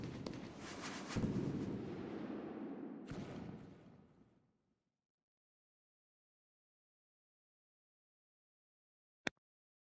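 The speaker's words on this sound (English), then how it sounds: "these single shot salutes, 25 millimeters" A single-shot 25 mm salute firework shell in the Pyroworks video game bursts with a loud boom that rumbles and decays over several seconds, followed by silence and one faint sharp crack near the end.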